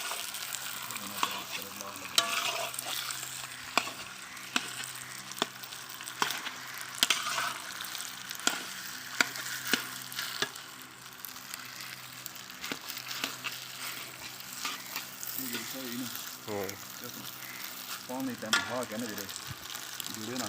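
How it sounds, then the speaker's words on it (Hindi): Makhadi halwa stirred with a spoon in a pan, giving a long stretch of faint frying sizzle punctuated by frequent sharp spoon clinks and scrapes. "और चम्मच के साथ इसको थोड़ा मिक्स कर देंगे।"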